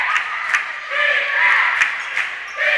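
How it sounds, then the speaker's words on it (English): High school basketball crowd in a gym during a Malden Greenwave versus South Pemiscot Bulldogs game, loud and close, a steady murmur and cheering broken by sharp ball bounces and squeaks, with a commentator talking over it. "You can hear the crowd, I'm sure."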